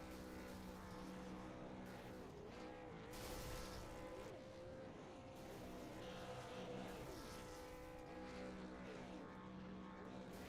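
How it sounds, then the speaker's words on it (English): A Super Late Model race car in iRacing sits revving and spinning its tires in steady burnouts, a continuous loud engine drone with wavering pitch and no pauses. "He's still doing burnouts."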